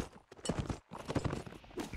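Horse hooves clip-clopping with a rider in a video game, a rhythmic run of hoofbeats at moderate pace, fairly quiet, with a short gap midway.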